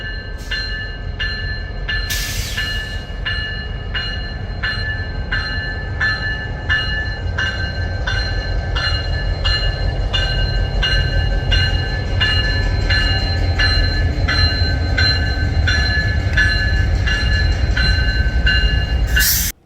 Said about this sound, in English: An hour or so later, CSX Y202 comes back with a Conrail caboose.